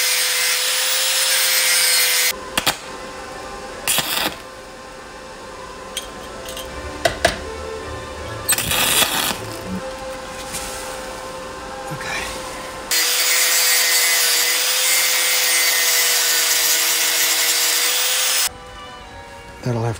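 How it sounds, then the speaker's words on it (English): An angle grinder cleans up a weld on a Moto Guzzi Mk1 frame, with loud, steady, high grinding in long passes that alternate with quieter gaps and some talk. "I'm gonna just put the grinder over that, clean all this mess up"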